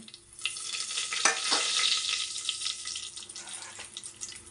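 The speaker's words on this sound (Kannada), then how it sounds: "ಇದೊಂದು ಸ್ವಲ್ಪ ಫ್ರೈ ಆಗಬೇಕು. ನೋಡಿ ಫ್ರೆಂಡ್ಸ್, ಮೊಟ್ಟೆ ಎತ್ಕೊಂಡಿದ್ದೀನಿ. ಇವಾಗ ಇದಕ್ಕೆ ಚಕ್ಕೆ, ಲವಂಗ, ಪಲಾವ್ ಎಲೆ ಹಾಕ್ತಾಯಿದ್ದೀನಿ." Cinnamon, cloves and bay leaf frying in a pan for egg biryani give a steady, close sizzle, with a few sharp clinks from stirring early on.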